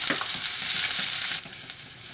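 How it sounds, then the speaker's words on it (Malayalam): Onion, ginger and green chilli sauté in a pan for Kerala egg curry, making a loud, dense sizzle close by that eases a little partway through, with soft stirring underneath and no speech. "ഇതിലേക്ക് നമുക്ക് സവോളയും ഇഞ്ചി പച്ചമുളകും ചേർക്കാം ഇത് നന്നായിട്ടൊന്ന് വഴറ്റാം"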